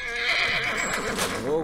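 Horse whinnying in the video game The Last of Us Part 1, a rising and falling neigh near the end of a short stretch, close and fairly loud over game ambience and a high steady tone.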